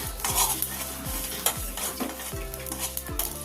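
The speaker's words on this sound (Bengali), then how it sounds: "ফোড়নটা ভাজা হয়ে গেছে, বেশি কালো করে ভাজবো না" Panch phoron spices frying in oil in a pan for a raw mango pickle, with a constant close sizzle broken by repeated spatula scrapes and taps against the pan, no voices.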